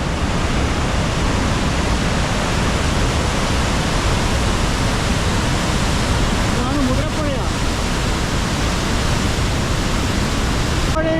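Powerful, unbroken roar of water rushing from a half-opened dam in Idukki during the monsoon fills the whole stretch, dense and loud with no pauses.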